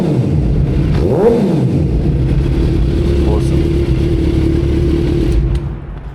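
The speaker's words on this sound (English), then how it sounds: "Alrighty, boys, let's give it a little rev. Not gonna go too much." A cold Suzuki GSX-R750 motorcycle engine idles steadily and loudly up close, with one brief rise and fall in revs early on before settling back to a mellow idle.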